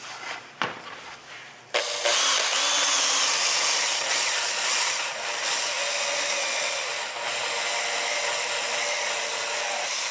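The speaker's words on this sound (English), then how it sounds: "A little sanding." A power sander works on a guitar body being reshaped, its steady broadband whine and rubbing hiss starting after a brief scrape and running loud and close, with slight dips as pressure shifts.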